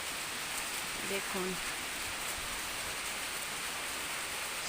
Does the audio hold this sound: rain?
yes